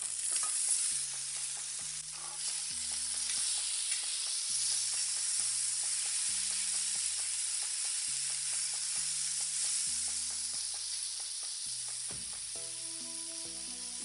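Tomatoes tipped into onions already fried until soft and pink, for a coconut and kaara chutney, with a steady loud sizzle and hiss throughout and stirring scrapes, and some background music playing underneath.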